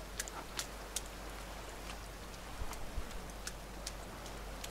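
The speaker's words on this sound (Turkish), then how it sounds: "İyi ya, yağmur güzel oldu." Soft rain in the survival video game The Forest, a quiet steady hiss with scattered light drip-like ticks, faint and without talk.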